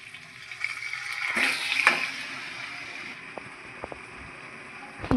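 Pieces of mutton drop into a pan of frying spice masala with whole garlic, a hissing surge of sizzle swelling then settling into a softer steady crackle with a few small clinks and pops.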